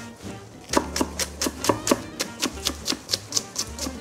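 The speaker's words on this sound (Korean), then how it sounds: "대파 한 대도 반으로 갈라서 양파와 마찬가지로 잘잘하게 썰어줄 거예요" A knife chops halved green onion on a cutting board for perilla leaf kimchi, a quick steady run of crisp, close taps at an even rhythm.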